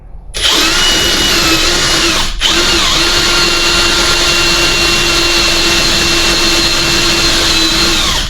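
Loud, close power drill whirs continuously while boring deeper into a 242 HD transfer case shaft for a slip yoke eliminator install, briefly pausing once before spinning back up to a steady high whine.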